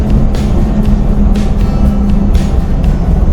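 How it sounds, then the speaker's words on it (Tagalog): A tractor passing on a rural road gives loud, steady engine rumble with a droning low tone, rising and falling slightly as it goes by close up. "ito yung may traktora oh. yan ang traktora"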